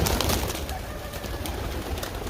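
Pigeons coo softly in a loft right after a hawk attack on the flock, low murmuring calls amid a dense, noisy background of rustling and handling sounds close to the microphone.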